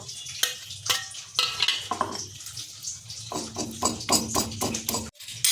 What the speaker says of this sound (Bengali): আদা, রসুন, একটু লবণ নেব আর কালো জিরেটা সব একসঙ্গে থেতো করে নেব।